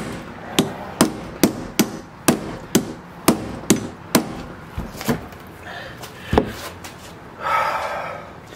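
Nine or ten sharp metallic hammer blows on the fuel pump lock ring of a Jeep Grand Cherokee in a steady rhythm, then a few slower strikes and a brief scraping rustle near the end.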